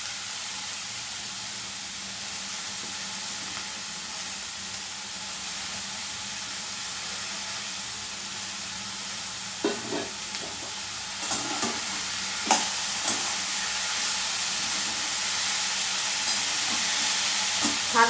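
Gima greens added to a pan of frying eggplant and bori, giving a steady close sizzle with scraping stir strokes growing denser toward the end; no talking.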